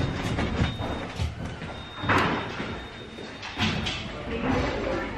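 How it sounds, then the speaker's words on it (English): Lift doors slide open with a short rumbling glide among muffled background noise and faint voices. "Doors opening."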